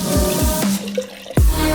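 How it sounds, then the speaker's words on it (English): Rice vinegar poured into a jar, a close, loud liquid stream with gurgling, dripping splashes and a rising glug as the jar fills, heard alone. "pour 150 milliliters of rice vinegar into the jar"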